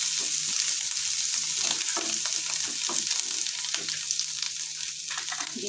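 Chopped ginger frying in a pan, a constant bright sizzle with frequent scraping stirs of a spoon or spatula through it, fairly quiet and without talk.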